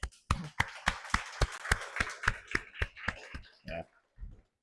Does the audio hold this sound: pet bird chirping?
no